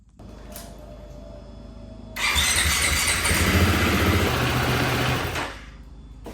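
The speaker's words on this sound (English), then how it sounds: "we'll start the bike" A Husky, KTM or GasGas 350 dirt bike engine starts after a low idle-like hum, bursting into a loud, high, buzzing rev that holds for about three seconds before dropping away.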